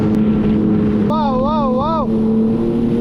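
A jet ski's steady engine drone on open water in Bahrain with wind buffeting, and a brief wavering tone rising and falling partway through.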